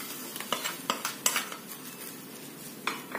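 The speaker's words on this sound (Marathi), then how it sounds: "अशी ही चुरचुरीत फोडणी आपण ह्या डाळीवरती ओतून घ्यायचं" A spoon clinks and scrapes against a metal pot as sizzling tempering is poured over raw mango dal and stirred in, with a few sharp metallic taps and a faint crackle between them.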